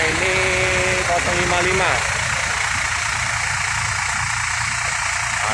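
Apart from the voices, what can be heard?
Ramayana bus engine idling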